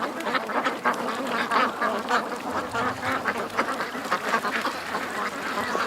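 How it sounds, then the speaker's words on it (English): Ducks quack over and over in a busy, overlapping chorus as they flush from the water, fairly close and steady throughout with no talking. "Ducks are leaving the water"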